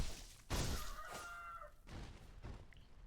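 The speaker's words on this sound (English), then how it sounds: "kill this chicken." A chicken clucking in the video game Sekiro, a few loud squawking bursts with harsh, broken edges over a low game ambience, close and alone with no talk.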